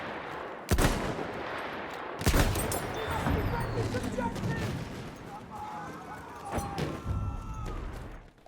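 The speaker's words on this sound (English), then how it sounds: "Machine gun, one of theirs." Machine gun fire in the Battlefield 1 video game, with a few sharp bursts standing out over a busy battle backdrop of distant shots and rumble, and a voice talks faintly underneath.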